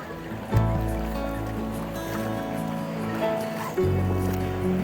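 Sea waves wash steadily onto a sunny Odesa beach on the Black Sea, a continuous low surf rumble with a stronger surge near the start and another later, while someone talks over it.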